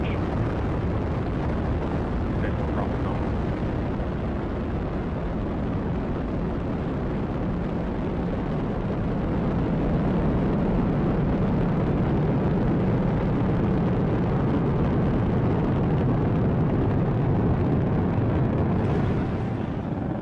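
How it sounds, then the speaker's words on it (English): A SpaceX Falcon 9 rocket ignites and lifts off, a loud, steady roar of broadband engine rumble that fills the whole stretch without letting up, with no other sounds standing out above it. "Ignition, liftoff."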